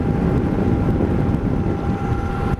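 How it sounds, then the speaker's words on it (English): Heavy wind buffeting a motorcycle rider who leans out from behind a Givi Airflow screen, a loud continuous low roar and rumble with no pauses. "I'll just lean over so you can get what the wind would normally be doing"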